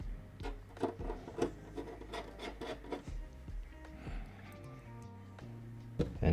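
Screws being tightened with a screwdriver inside an Ncase M2 PC case: soft, continuous rubbing and scraping with small clicks and a low hum underneath.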